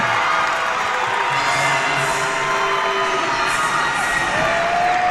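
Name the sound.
basketball crowd cheering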